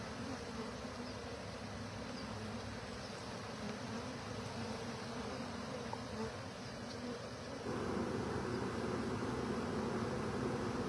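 A swarm of honey bees buzzes in a spring bee yard, a dense continuous hum of many wings that grows louder and fuller partway through, with no voices.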